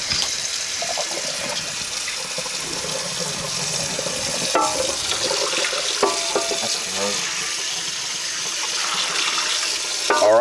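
Tap water runs steadily into a kitchen sink as a greasy, burnt pan is rinsed out, with scattered clinks and scraping under the continuous flow and some faint talk in the background.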